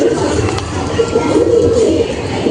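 Madras pigeons coo in a steady, soft murmur close by, with a low continuous rumble of cooing running through the whole stretch and no talk over it.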